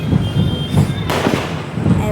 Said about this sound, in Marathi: किती सारे फटाके उडले जातात